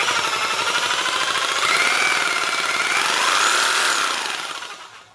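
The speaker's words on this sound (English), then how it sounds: "this is a counterbalanced super Sawzall, and there's basically no vibration at all, period" A DeWalt DW304P counterbalanced reciprocating saw running, a loud close buzzing drone with a rapid pulse that shifts in pitch, then fades as it winds down.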